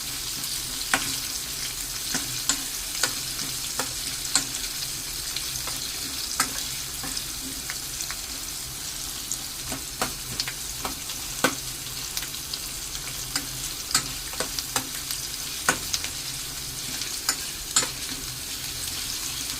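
Coarsely crushed garlic frying in oil for gongura pickle, a loud continuous close crackling sizzle dotted with frequent small pops and occasional stirring scrapes throughout, no voices.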